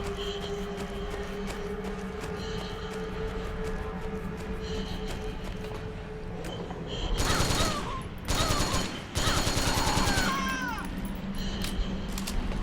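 Gunfire from a weapon in the video game Metal Gear Solid 4 breaks out in loud rapid bursts during the second half, layered over a constant droning game background.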